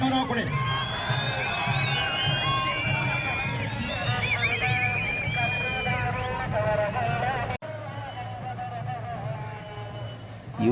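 A large crowd at the Kengal Jatre Hallikar bull fair roars, cheers and claps steadily for about seven seconds, with voices mixed through, then cuts abruptly to a quieter but still busy crowd murmur.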